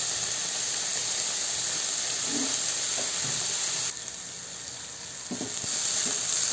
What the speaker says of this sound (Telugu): ఇట్లాగే బాగా ఎర్రగడ్డ, పచ్చిమిర్చి బాగా ఇట్లా వేగిపోయినాయి కదా